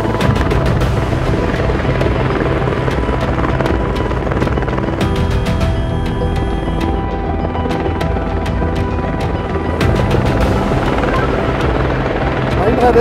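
A helicopter's steady, loud rotor drone fills the whole stretch during cable-pulling work for the Schilthorn cable car, with rhythmic thumping and a constant engine whine, close by and continuous.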